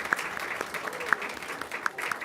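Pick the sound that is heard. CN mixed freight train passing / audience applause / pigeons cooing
audience applause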